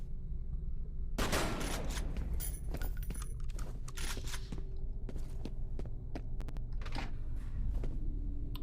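Gunfire in F.E.A.R. rings out as a burst of sharp shots followed by scattered cracks and impacts over a low steady hum, moderately loud.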